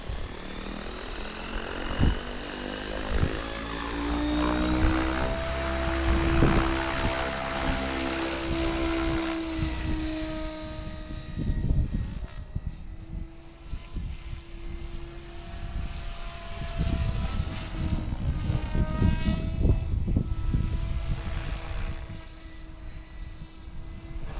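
A remote-controlled propeller aircraft on a test flight, its engine droning loudly and continuously, rising and falling in pitch as it passes and maneuvers nearby, with brief low thumps along the way.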